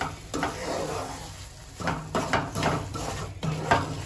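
Semolina fried in ghee is stirred in a pan, producing soft scraping and intermittent clinks of a spoon against metal, close and fairly quiet, with irregular bursts of stirring.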